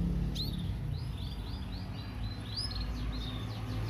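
A contest canary sings a series of thin, rapid chirps and trills that stand out faintly above a loud, steady background hum and rumble.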